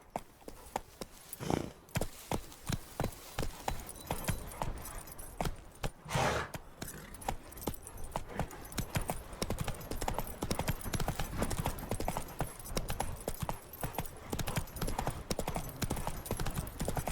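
Rapid clip-clop of a horse's hooves galloping in The Witcher 3: Wild Hunt, a steady, loud, driving rhythm that runs throughout with a brief vocal call near the start.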